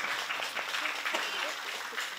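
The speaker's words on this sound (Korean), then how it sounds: "큰 박수로 환영해주세요." An audience at a stage event applauds to welcome an actor, producing a steady wash of clapping for a couple of seconds with no clear talking over it.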